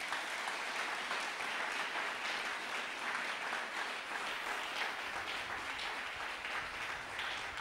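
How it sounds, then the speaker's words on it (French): A church congregation applauds and cheers together, a steady, dense wash of clapping that holds at full strength throughout. "Est-ce qu'on peut acclamer le Saint-Esprit?"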